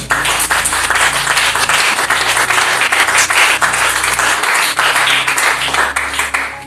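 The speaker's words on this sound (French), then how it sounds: "Est-ce que tu peux d'abord acclamer pour le Seigneur?" A church congregation applauding to acclaim the Lord during a prayer service on intercession, with loud, sustained clapping from many hands that continues without a break and fills the room.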